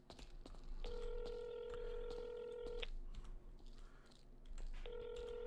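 Telephone dialing tones in a GTA role-play video game: a steady dual-tone beep holds for about two seconds, then returns briefly near the end, over a low background hum.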